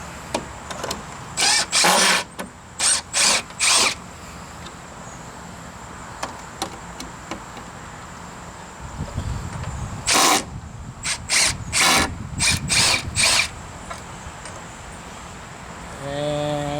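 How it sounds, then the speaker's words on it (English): An impact driver backs screws out of a deck sideboard in several short, loud rattling bursts separated by pauses, close by, with a lower rumbling stretch partway through and no clear talking. "that's why I wanted to use the impact driver for this"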